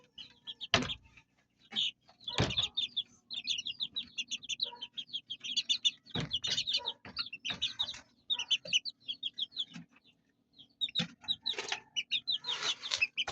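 Newly moved baby chicks peep inside their coop in rapid, high, overlapping bursts, broken by a few loud thumps and knocks nearby, with short quiet gaps between flurries.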